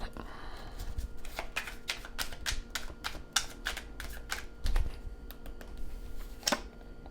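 Tarot cards being shuffled and tossed down, a rapid series of crisp snapping riffles and flicks, fairly close, with quiet background hum and no clear talk.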